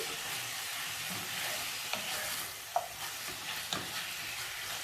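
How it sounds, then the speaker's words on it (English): Beef sears and sizzles in a pot at the start of a stew, a steady hiss of browning meat with a few soft clicks of stirring, fairly quiet and with no talking. "already the beef has started browning"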